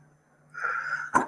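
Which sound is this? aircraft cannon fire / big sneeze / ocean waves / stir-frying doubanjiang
big sneeze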